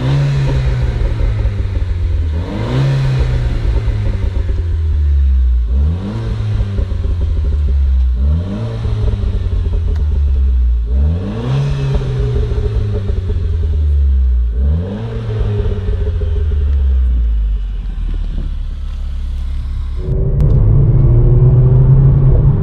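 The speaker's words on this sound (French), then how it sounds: "quand il passe les rapports, il y a une petite pétarade." A Renault Clio 4 RS Trophy with a 220 hp engine and dual-clutch automatic gearbox revs repeatedly in a series of about five rising pulls, each dropping off sharply at the gear change, close and loud, followed by a deeper rumble at the end.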